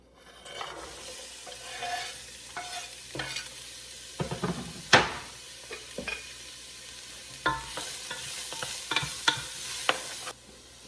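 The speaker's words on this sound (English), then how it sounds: "I have a tiny bit of olive oil heating up in my large pot here. I'll add my chopped onion and carrot." Chopped onion and carrot sizzle in a little olive oil in a large pot, with soft frying crackle broken by repeated spoon stirs and scrapes, close and fairly quiet.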